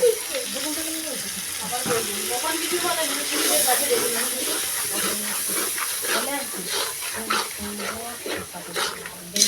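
Water splashed into spices frying in a pan gives a steady hiss and sizzle that runs the whole way through, with a voice speaking over it.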